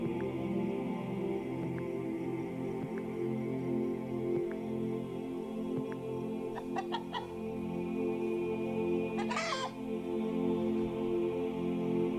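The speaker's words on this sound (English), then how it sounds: "The hen house comes to life with the spirited clucking." Hens cluck inside a hen house in the video game Orwell's Animal Farm, a few short clucks breaking through a steady musical background, with one louder call near the end.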